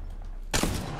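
A longbow marksman rifle fires in Apex Legends, one loud sharp report halfway through after a quiet lead-in, with a brief ringing tail that fades.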